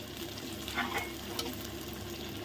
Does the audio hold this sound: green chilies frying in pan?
yes